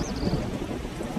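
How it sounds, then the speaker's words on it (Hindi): Heavy rain pours steadily with a low rumbling thunderstorm beneath it, a continuous dense wash of downpour heard briefly, with no voices, as a cartoon storm sound effect. "अरे आज तो कितनी तेज बारिश हो रही है, जैसे आज के बाद कभी बारिश ही नहीं होगी। इतना आंधी तूफान भी चल रहा है।"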